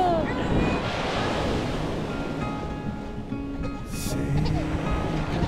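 Ocean waves washing onto a beach in Barcelona in summer, a loud, steady roar of surf mixed with wind noise on the microphone.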